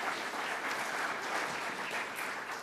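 Sustained applause from the audience at a club foundation celebration, a dense, steady wash of many hands clapping that holds at an even level throughout with no voices breaking through.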